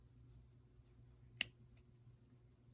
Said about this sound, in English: Then I just pull on it some, make sure that it's tight enough, not going anywhere, and then I just snip this long piece off right here